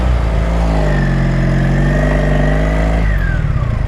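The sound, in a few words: 1983 Honda Sabre VF750S motorcycle engine accelerating on test ride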